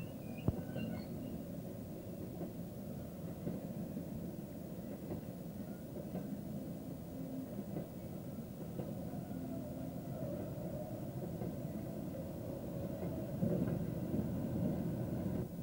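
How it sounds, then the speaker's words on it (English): A loaded coal train backs slowly out of a colliery into reception sidings, a low continuous rumble and grinding with faint clanks, steady throughout and swelling a little near the end. "A trainload of coal backs out of the colliery into the reception sidings."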